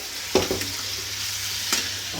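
Potato and pointed gourd frying in a pan with nigella seeds, green chilli and onion for breakfast, a steady close sizzle with two sharper stirring scrapes.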